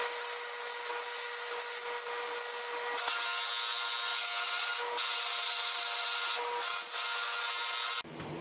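Continuous abrasive hum of a drum sander working pallet wood, steady and loud with slight changes in pitch, cutting off abruptly near the end.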